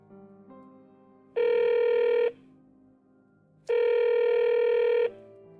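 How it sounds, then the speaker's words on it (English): Two long bursts of a telephone ringing in a video game, each lasting about a second, loud and clean with a pause of electronic quiet between them. "The phone keeps ringing for a long time."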